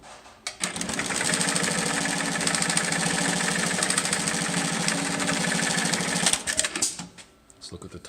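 AMS-210EN industrial sewing machine stitching through three layers, a loud, rapid, steady mechanical chatter running for several seconds close up before stopping, with a voice heard around it.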